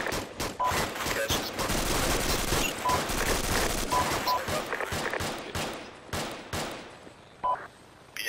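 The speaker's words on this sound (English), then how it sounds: "Be advised, shooting pretty close to my head," Rapid gunfire from a military shooter game set around a supermarket, with dense bursts and volleys crackling close by for most of the stretch, thinning out toward the end.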